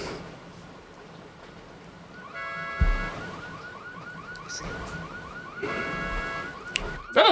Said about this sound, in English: it's the dude in blackface that set off the car alarm.